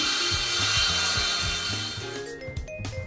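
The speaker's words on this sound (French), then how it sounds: "Délignez la lame à la dimension souhaitée." A wooden wall panel board being ripped to width with a power saw, a steady loud cutting whine with rhythmic low-frequency pulses throughout, easing slightly near the end, with no voices.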